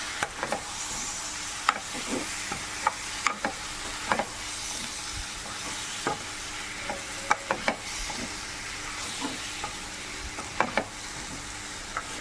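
Kerala-style pork fry being stirred in a hot pan: repeated scraping, clacking strokes of the spoon over a continuous soft sizzle, close and fairly even throughout.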